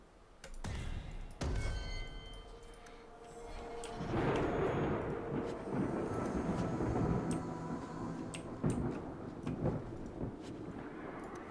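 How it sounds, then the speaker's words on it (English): Chain Lightning spell from the Dragon Age 2 video game: sharp crackling electrical bursts at the start, then a sustained rumbling, sizzling roar with scattered crackles that stays loud throughout. "Chain Lightning."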